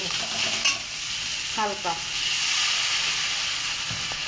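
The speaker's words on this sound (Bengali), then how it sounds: "এখন আমি এটাকে একটু জল দেব" Spiced masala frying in oil hisses and sizzles steadily after a splash of water, with a brief spoon scrape and a short spoken word over the constant frying noise.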